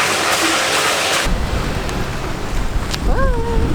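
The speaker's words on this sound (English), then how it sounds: "It's hailing." Heavy hail drumming down in a dense, loud roar that drops to a rougher, lower clatter partway through, with a brief voice-like whistle near the end.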